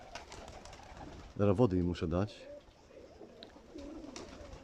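Soft, throaty pigeon cooing in a short burst of rolling notes, close by, with a person speaking briefly against a quiet background.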